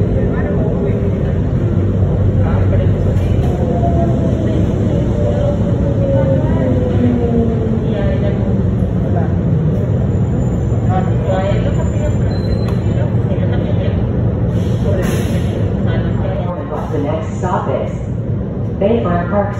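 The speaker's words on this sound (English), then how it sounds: "The train is approaching." A Miami Metromover automated people mover car rumbles and hums steadily from inside the front car, with a rising electric whine and rattling as it travels.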